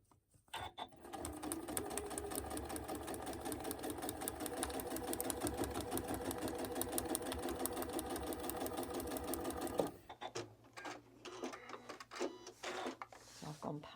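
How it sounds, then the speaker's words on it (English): A sewing machine stitches a quilt block seam in a fast, steady mechanical whir of close repeated needle strokes for about ten seconds, then stops, leaving soft handling noises; a voice talks in the background. "we're going to sew from up here all the way through down to there"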